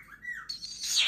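A pet parrot squawks and chirps in a short, close burst of rising and falling calls that ends in a bright, shrill screech, with no talk over it.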